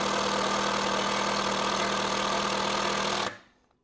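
Metabo 18V triple hammer 1/4-inch impact driver in self-tapping mode, a loud, steady, buzzing motor rattle held for about three seconds before stopping abruptly.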